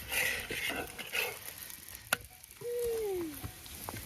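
Methi thepla flatbread cooking in oil on a flat griddle, with a soft sizzle and scattered taps and scrapes as it is handled, plus a brief squeaky sliding sound near the end.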